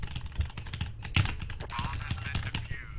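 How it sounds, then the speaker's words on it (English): Computer keyboard keys are hit hard in fast, uneven bursts of loud clacks during an online Counter-Strike match on Mirage, with people talking over them throughout. "Cause Mo needs to smash his fucking keys"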